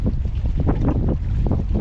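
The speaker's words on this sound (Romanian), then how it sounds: "Suflă vântul ăsta puțin, dar asta este." Wind gusts buffet the microphone at a lakeside fishing spot on a Danube Delta canal in February, a steady low rumbling roar with fluctuating bursts and no voices.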